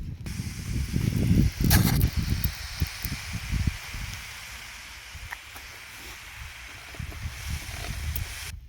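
A sprayer hisses on a coffee farm after fertilizing, with a loud rushing spray in the first few seconds easing into a softer steady hiss with rustling, heard outdoors without talk.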